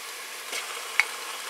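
Chopped onions sizzle in hot oil with tomato paste as a spoon stirs the pan, a steady close frying hiss with a brief scrape.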